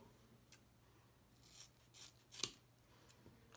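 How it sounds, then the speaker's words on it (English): Scissors snip through hair while someone trims their own bangs, a few soft, close crisp cuts scattered across a quiet room, the sharpest one near the end. "Scissors."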